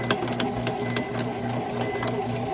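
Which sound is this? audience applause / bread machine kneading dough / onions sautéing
bread machine kneading dough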